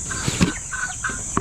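Chickens cluck and chirp in short calls during feeding in a small farm setting, with several brief peeps and clucks up close.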